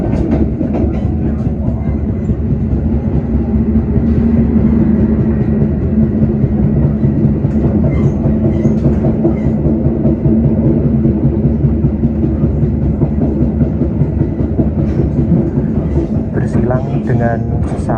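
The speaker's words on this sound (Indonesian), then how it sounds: "Bersilang dengan sesama kereta api Majapahit di stasiun Telawa ya." A Majapahit economy passenger train runs on rails in Indonesia, heard as a steady loud rumble and rhythmic wheel clatter from on board, continuous throughout, with faint voices briefly audible.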